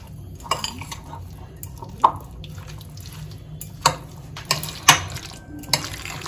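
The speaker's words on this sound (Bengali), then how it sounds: "এবার এগুলোকে খুব ভালো করে মিশিয়ে নিতে হবে।" Chicken sandwich filling being mixed with salt in a bowl: soft wet squishing with several distinct clinks of a spoon against the dish, spaced irregularly over a quiet room background.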